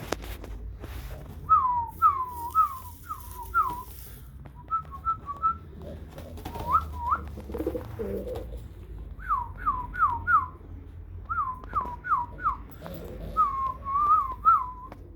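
A person whistles to balloon pigeons in quick repeated bursts of short rising and falling notes, grouped in rapid runs with pauses between, close and clear over faint background noise.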